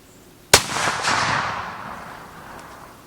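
A single hunting rifle shot fired at a roe buck during stalking, one sharp loud crack followed by a rolling echo that decays over a few seconds in open country.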